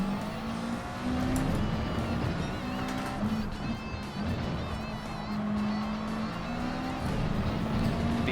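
Race cars in Gran Turismo 7, including a BMW in a Manufacturer Series race, roar continuously with layered engine drones that rise and fall as cars accelerate and pass, loud and close, with no talk.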